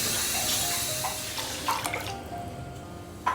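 Lentils are washed with water in a home kitchen, with a steady splash of running water, faint drips and small clinks that thin out toward a brief splash at the end.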